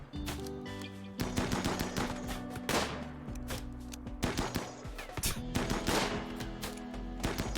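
Gunfire in the video game RimWorld Ideology, dense overlapping volleys of rapid shots popping steadily for several seconds, mid-distance and continuous.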